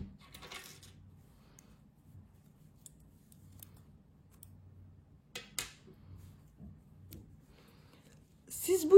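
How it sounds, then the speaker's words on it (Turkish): Scissors snip white yarn in a few brief, sharp, close cuts separated by long near-silent stretches, with faint whispery rustling and a louder clack at the end. "Beyaz renk ipliği kesiyorum."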